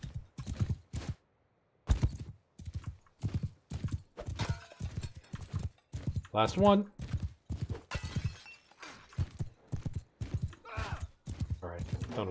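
Horse hooves pounding at a gallop in Mount and Blade: Bannerlord, a rhythmic clip-clop running under frequent loud talk, with a brief crash of shattering pots partway through.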